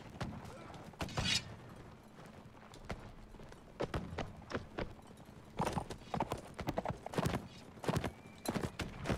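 Horse hooves in the video game Mount & Blade, rhythmic clip-clop strikes at a brisk gait, sometimes clustered and loud, over a busy background with occasional whinnies and sharp impacts.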